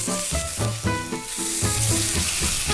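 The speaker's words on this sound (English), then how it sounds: "press it down on top of my steaks so I could get a nice even sear" Steaks sear in a hot pan coated with rendered fat, giving a loud, steady, close sizzle that runs throughout beneath a tonal background.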